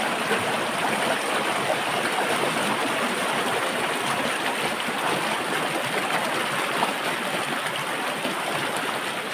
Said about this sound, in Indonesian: Dan suaranya agak berisik nih ya teman. Saking arusnya besar, deras arusnya.